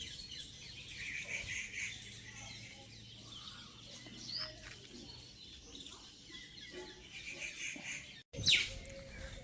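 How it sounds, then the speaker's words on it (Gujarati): Birds chirp in the morning after rain, faint scattered tweets and calls at a distance over quiet ambience, with a person speaking at times. "પક્ષીનો અવાજ જો મસ્ત આવે"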